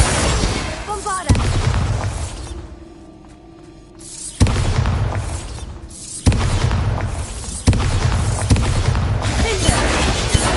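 Bombarda blasting spells in a Harry Potter video game go off as a series of heavy booming explosions, several sharp onsets each followed by rumbling debris, with a quieter lull between blasts.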